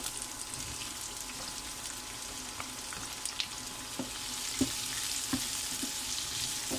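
Chopped onions and green chillies fry in a pan with a steady, close, hissing sizzle, broken now and then by soft stirring clinks and scrapes.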